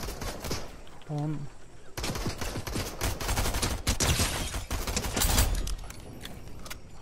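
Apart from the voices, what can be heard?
gunfire in Fortnite video game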